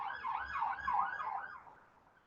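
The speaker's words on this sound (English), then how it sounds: "I can hear ambulance going past me as we speak." Ambulance siren passing through central London, a rising-and-falling wail at moderate distance that fades away over a couple of seconds, heard alone without speech.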